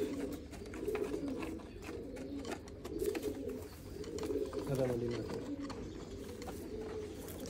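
Pigeons coo repeatedly in soft, low, rolling phrases, fairly close, with a few overlapping calls and light background noise.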